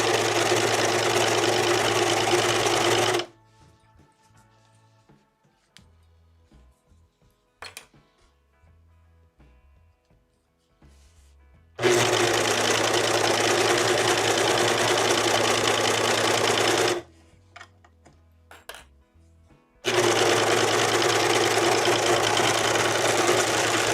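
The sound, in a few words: serger (overlock sewing machine) sewing a hooded shirt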